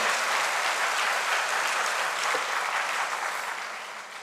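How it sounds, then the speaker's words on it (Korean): Warm, continuous applause from a church summer camp audience for a church choir, dense and even, gradually tapering off toward the end. "강동교회 합창단에게 다시 한번 뜨거운 박수를"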